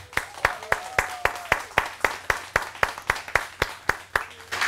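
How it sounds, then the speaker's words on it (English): Church congregation applause for a woman soon to be baptized, dominated by rhythmic, evenly spaced sharp claps at a steady beat, close and distinct over a faint low hum. "let us give her a big round of applause"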